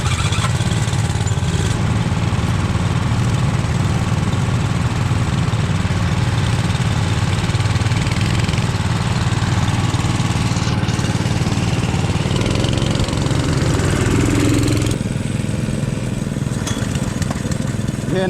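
A go-kart engine runs continuously and loudly up close at a racing track in Palisadoes, Kingston, Jamaica, a steady rough mid-pitched drone with slight shifts in tone throughout.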